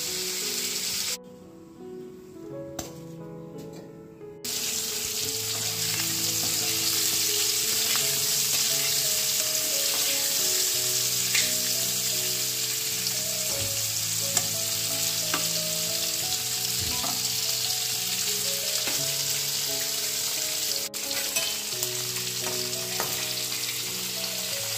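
Bitter gourd chorchori frying in a pan, a dense steady sizzle with scraping stirs and clinks of the spatula, close and continuous after a brief quieter moment near the start.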